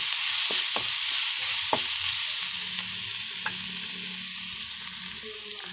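Onions sautéing with salt in a pan, a loud, steady sizzle close by with occasional scrapes and taps of a stirring spoon, no voices.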